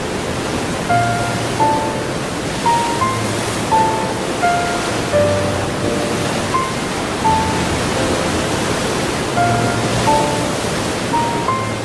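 Large and small waterfalls flowing through forested valleys make a steady, full rush of falling water that stays constant throughout. A soft music line plays faintly over it.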